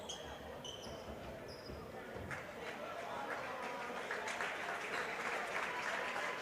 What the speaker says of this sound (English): Gets a nice round of applause from an appreciative Vandegrift crowd.